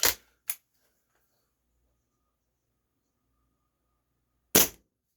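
Three sharp reports from a Stoeger X20 S2 air rifle firing .22 pellets, two close together at the start and a third after a long silent pause, each a loud, crisp crack with quick decay.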